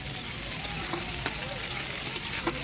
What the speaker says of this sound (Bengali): বেগুন আর পটল আমি দিয়ে দিলাম। তো এগুলো দিয়ে নাড়াচাড়া করবো আমি।